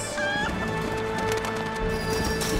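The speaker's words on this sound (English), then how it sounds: "Chickens! So many chickens!" Chickens clucking in a covered market scene in the video game Heavy Rain, a busy, close cluster of squawks and calls over a steady market background, with no talking.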